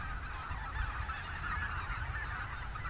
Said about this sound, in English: And white-fronted geese.